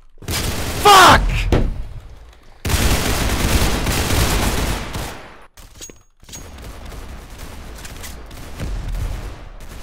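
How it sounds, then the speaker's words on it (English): Gunfire in a Roblox CS2-style shooter video game, with bursts of shots layered over loud, busy game sound and voices talking. "Opening fire!"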